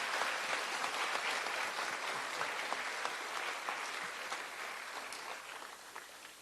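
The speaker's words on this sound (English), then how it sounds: "Could we have one more round of applause for our student speakers?" A crowd at a fourth-grade elementary school promotion ceremony applauds the student speakers. The clapping is dense and continuous, heard from a distance in a large room, and tapers off slightly over several seconds.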